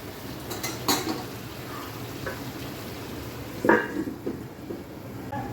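Meat stirred slowly in a pot while braising, a soft continuous simmer broken by a few sharp clinks and scrapes of a spoon against the pot, close and moderately loud.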